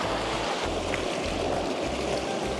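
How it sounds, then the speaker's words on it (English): The Vilcabamba River in Ecuador runs down from Vilcabamba with a steady, broad rushing of water. It sounds close and continuous, with a faint low rumble pulsing underneath and no voices. "This is the beautiful Vilcabamba River coming down from Vilcabamba."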